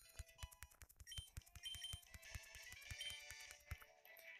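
Mobile phone giving off a rapid, steady train of electronic beeps and chirping tones, fairly faint and continuing for several seconds with no talk.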